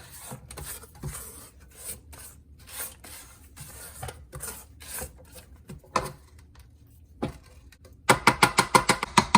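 A spatula scrapes the bottom of a bowl of lemon bundt cake batter, making irregular soft rubbing strokes that end in a quicker run of sharper, rhythmic scrapes, with no talk.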